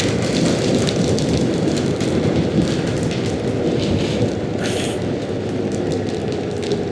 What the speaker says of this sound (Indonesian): Kok tiba-tiba hujan.